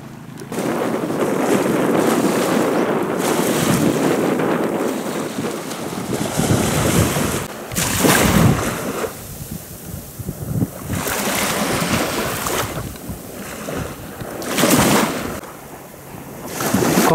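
Gentle sea washing onto a sandy beach on Umashima island, Fukuoka, with strong gusts buffeting the microphone; steady surf hiss rises and falls in several louder swells, and no one speaks.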